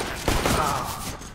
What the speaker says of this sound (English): Achilles takes the weapon and puts down some flanking fire